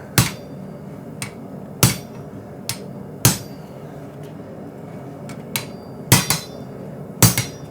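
Metallic hammer strikes on hot steel ring out one at a time at uneven intervals while forging mosaic Damascus for a hunting knife, each blow sharp and clanging against a quiet background, no voices.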